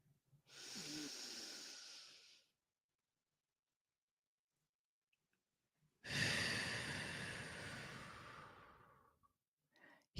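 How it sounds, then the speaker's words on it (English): Two long, slow breaths drawn in and let out, each a soft airy rush lasting a couple of seconds and separated by near silence, close and quiet. "my breath, or the breath, in and out, inhale, exhale"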